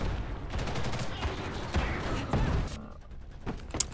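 Rapid gunfire crackles from the online shooter game Ghost in the Shell First Assault, a dense fusillade of loud bursts that thins out into a few isolated shots.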